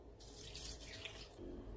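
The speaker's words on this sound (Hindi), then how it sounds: "अब इसमें ऐड करेंगे पानी" Water runs in a steady, close stream into a lentil mixture seasoned with ginger-garlic paste, green chillies and spices, a short hissing pour that starts and stops cleanly, quiet overall.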